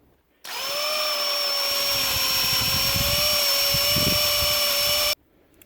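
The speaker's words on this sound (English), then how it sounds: "And I'm stepping this up to a bigger bit." A power drill fitted with a larger bit bores through a knife handle, a steady close-up whine with a strong tonal hum that holds for about five seconds and then stops abruptly. No talk.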